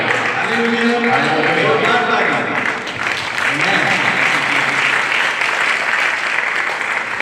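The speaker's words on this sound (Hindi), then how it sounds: "तो ताली बजा करके अपने पड़ोसी को जगाते रहिए" Congregation clapping together in a church service, a dense, steady burst of applause that runs throughout, with a voice speaking over the first half.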